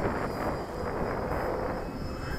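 A Phazor 4-cell electric RC model airplane flies at a club field, its motor a steady whirring drone at partial throttle, fairly loud and continuous with some wind buffeting, no talk over it.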